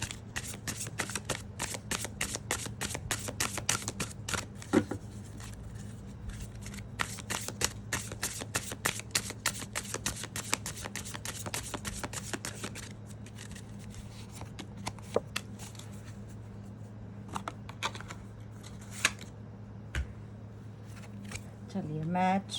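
A deck of slippery playing cards is shuffled in a long run of rapid riffling and flicking bursts, close and fairly loud, with a low steady hum beneath and a few louder card snaps.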